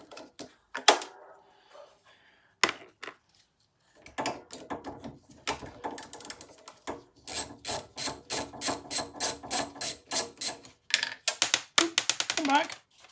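A ratchet and socket undoing a 10mm bolt on a Suffolk Punch, with rapid clicking bursts of ratcheting growing busier toward the end, close by and moderately loud, mixed with knocks and brief talk.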